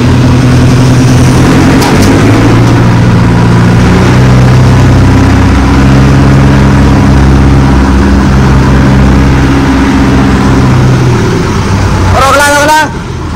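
A tractor hitched to a trolley strains to pull free in a wheat field, its engine droning loud and steady with deep low rumbling tones throughout, shifting slightly in pitch near the end.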